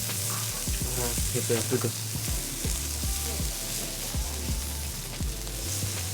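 Kobe beef fillet pieces sizzle steadily on a hot grill at a restaurant in Kobe, a loud, close, constant frying hiss with occasional scraping of a utensil, under brief conversation.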